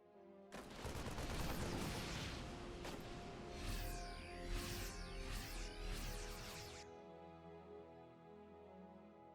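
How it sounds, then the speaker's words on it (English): Colossi firing on Marines taking damage in StarCraft 2, a loud burst of beam attacks with sweeping, zapping tones and crackling impacts for several seconds, then cutting off to a quiet hum. "Colossi firing, Marines taking damage."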